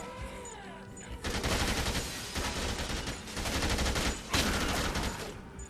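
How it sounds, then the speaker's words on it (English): An automatic turret in the video game Dead Rising 2 fires loud, rapid continuous bursts of gunfire, sustained across several seconds with brief gaps between volleys. "all you have to do is set it up in one place and it just automatically fires on anything deadly"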